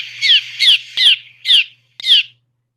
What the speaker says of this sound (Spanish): Y este sonido que acabas de escuchar es la palabra en el idioma de golondrina risquera